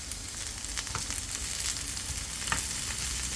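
Cleaned dried anchovies sautéing in a pan with other ingredients, a continuous crackling sizzle with light stirring scrapes throughout, close and steady without talk.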